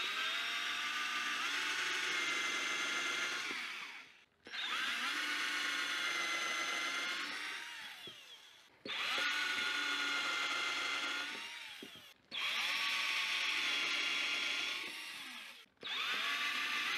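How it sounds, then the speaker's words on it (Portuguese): A power drill bores screw holes in a wooden box built for Jandaíra bees. Four separate bursts of steady, high whining drilling come close up, with short pauses between them. "Coloquei novamente o escalhador para fazer as perfurações para colocar os parafusos."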